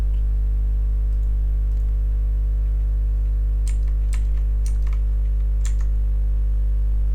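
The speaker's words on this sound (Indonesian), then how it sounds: "Kiri membantu menekan tombol pada keyboard." Computer keyboard keys, including function keys, pressed while working in CorelDRAW: several distinct crisp clicks in a short burst near the middle, over a steady low electrical hum, with no talking.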